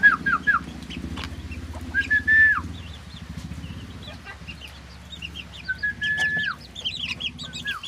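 Serama bantam chickens clucking and calling in a breeding pen, several birds close by giving short rising calls and soft clucks over a steady low background hum.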